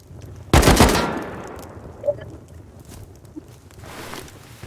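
A machine gun in Rust fires one loud, close burst of rapid shots that fades into a long rolling echo. A few faint clicks and rustles follow.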